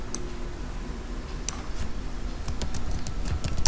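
Keyboard shortcut keys are pressed on a computer keyboard, giving a handful of sharp, close clicks spread unevenly over a steady background hiss.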